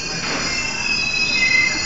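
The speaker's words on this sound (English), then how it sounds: "Man, this is the subway." A subway train on Line 5 grinds through a station, loud continuous high-pitched wheel squeal over rumbling rail noise, with no voices.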